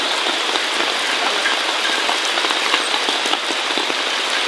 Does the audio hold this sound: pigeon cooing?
no